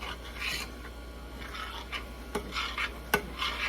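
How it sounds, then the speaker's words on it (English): Thick turkey gravy made from pan drippings is stirred in a pan, a soft continuous scraping and swishing with a couple of sharp clinks against a low background hum. "you just stir it for a moment, and you can probably see how rich it looks"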